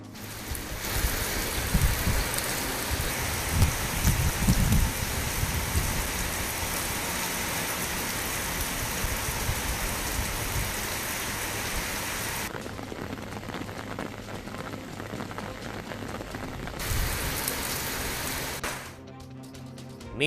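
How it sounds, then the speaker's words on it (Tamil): Sudden summer rain around Kodaikanal, Kambam and Vadipatti: a constant dense hiss of rainfall pattering on surfaces, close and even, with no voices. "கொடைக்கானல், கம்பம், வாடிப்பட்டி சுற்றுவட்டார பகுதிகளில் திடீரென பெய்த கோடை மழை"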